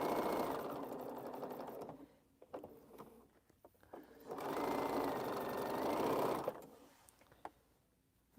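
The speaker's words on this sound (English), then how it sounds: "let's just sew 2 rows all the way through on both" A sewing machine stitches rows across a quilt in two steady, close bursts, each about two seconds long, with quiet handling noises in the gap between them and after.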